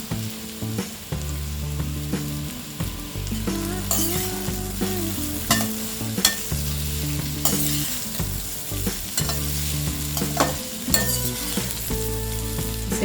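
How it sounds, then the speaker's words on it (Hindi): Bitter gourd (karela) slices frying on a low flame in a pan, a steady close sizzle broken by regular scraping and stirring strokes with the spatula, no talk. "हमने करीब 10 मिनट तक लो फ्लेम में करेलों को फ्राई किया है"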